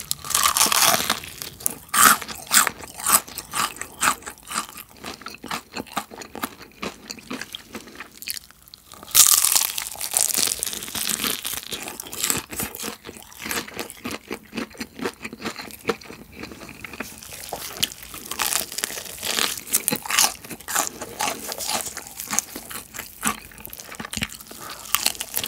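Someone eats crispy fried chicken up close, loud crunching bites and chewing crackles repeating throughout, with a brief pause near the middle and no talk.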